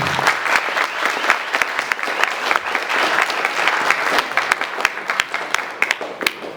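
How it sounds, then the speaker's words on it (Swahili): Sustained applause from a large crowd, dense and steady clapping throughout with individual claps popping out more distinctly toward the end. "Makofi kwake."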